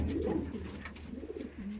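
Racing pigeons, including a red checker, coo softly nearby, low throaty rolling calls in a quiet setting.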